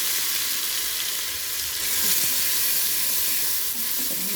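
Spice paste with cumin and a dried red chilli fries in a pan with a loud, steady sizzle and hiss that carries on without pause and without any talking.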